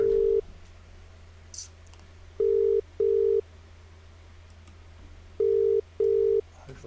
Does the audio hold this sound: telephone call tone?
yes